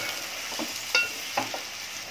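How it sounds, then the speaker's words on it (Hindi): Sliced onions frying in oil in a pan, a steady close sizzle broken by a few sharp stirring scrapes and crackles, with no one speaking. "2-3 मिनट मैंने प्याज को भूनी"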